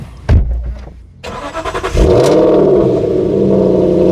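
An Aston Martin Vantage GT8 cold start: the starter clicks, the engine cranks and catches, then it flares into a loud, close revving roar that settles into a high, steady fast idle.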